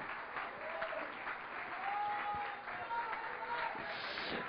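A church congregation claps steadily, with a crowd of voices and worship sounds underneath the sustained applause.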